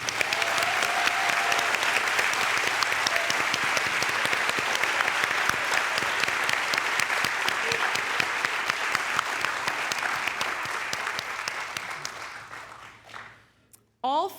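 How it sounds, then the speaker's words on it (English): A large audience at an MBA graduation ceremony claps in loud, sustained applause that gradually thins out and dies away near the end, followed by a brief noise. "Let's give them all a round of applause."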